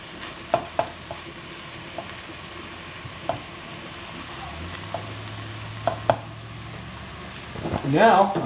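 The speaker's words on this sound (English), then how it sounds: "I'm just going to mix that all up inside." Vegetables and meat for a shepherd's pie are stirred together, with a series of close scraping and clacking utensil strokes over a low hiss, ending in a brief louder burst of rustling.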